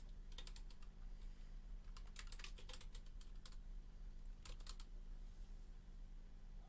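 Typing on a computer keyboard: quick bursts of light key clicks in a few short runs separated by pauses, soft and close over a low steady hum.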